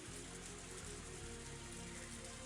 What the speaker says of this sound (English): You were just caught out by the rain